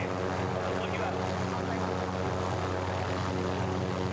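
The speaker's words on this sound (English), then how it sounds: "We're experimenting with this helicopter thing." Helicopter in Call of Duty: Warzone, a steady droning rotor hum with tonal engine layers throughout, loud and continuous, with players talking faintly beneath it.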